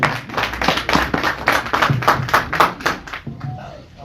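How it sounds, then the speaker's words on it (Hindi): Audience clapping to welcome local councillors, a short run of distinct, rhythmic hand claps at moderate distance that thins out near the end, with some voices underneath. "तालियों से स्वागत करें हमारे कौंसलर साहिबानों का।"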